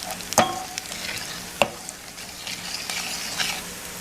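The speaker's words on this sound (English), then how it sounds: "you have to stir every now and then to make sure nothing sticks to the pan" Melting butter and honey in a pan are stirred with a few sharp scrapes and clinks of a utensil over a faint, steady sizzle.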